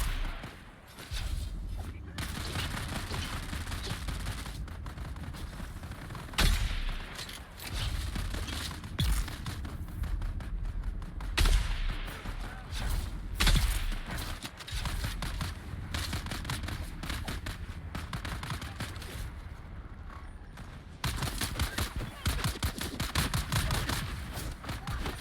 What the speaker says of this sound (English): Oh, those guys are trying to shoot me now?